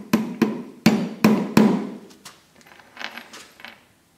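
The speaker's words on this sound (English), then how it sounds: "I always like to take a hammer and sort of whack them in a little bit" Five sharp hammer blows drive awls into hard black gum wood in quick succession, followed by a few lighter knocks and clinks, close and distinct.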